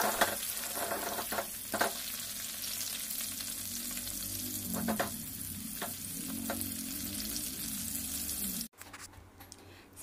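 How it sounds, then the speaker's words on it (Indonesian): Sambal ingredients sizzle and crackle steadily in a frying pan for about ten seconds, close and continuous, with occasional stirring scrapes, a brief clatter and a sudden drop in level near the end; no talking. "Untuk bahan yang ini semua digoreng ya"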